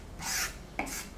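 Two separate scraping chops of a knife on a cutting board, each a short rasping stroke, are heard close up and alone during salad preparation for a steak dinner.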